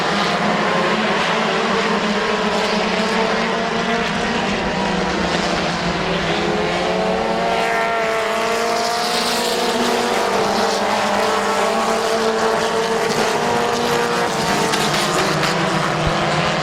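Race cars roar around the oval at Midvale Speedway, a loud continuous howl of engines rising and falling in pitch as the field passes, without talk.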